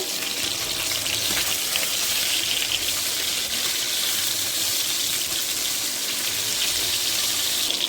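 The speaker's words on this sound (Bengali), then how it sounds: "তেল গরম হয়ে গেছে, আমি এখন মাছ দিয়ে দেবো।" Koi fish fry in hot mustard oil, giving a loud, even, rushing hiss that holds steady with no break throughout.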